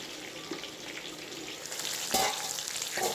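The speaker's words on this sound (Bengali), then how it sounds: "কুমড়ো আমাদের ভাজা হচ্ছে" Pumpkin pieces sizzle and fry steadily in a pan, with a couple of sharper scraping or stirring clatters near the end; no voices.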